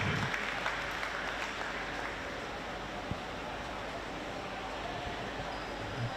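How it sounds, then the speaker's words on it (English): A crowd at a women's Premier League basketball grand final applauds an award winner, a dense, steady wash of clapping that holds evenly at moderate volume throughout. "Big round of applause for Nalani."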